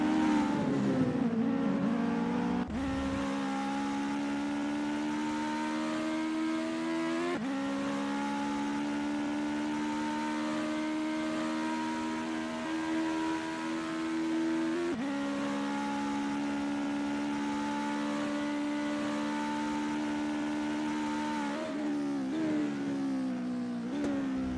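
A US Legend Car races around Charlotte in a sim racing game, its engine droning steadily at high revs with brief dips and climbs as it shifts and works through corners, loud and continuous with no talk.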